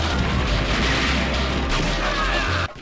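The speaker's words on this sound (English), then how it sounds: "you're treated to lots of great sound effects of crumbling structures and" Explosions and crumbling structures in the Neo Geo arcade shooter Shock Troopers form a dense, continuous roar of blasts and debris, loud and unbroken until it cuts off abruptly at the end.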